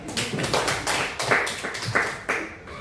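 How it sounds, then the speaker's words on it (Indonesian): A classroom group claps together after a class quiz score is announced, a scattered run of separate hand claps close by and fairly steady, with no voices over it. "Tepuk tangan kita semua."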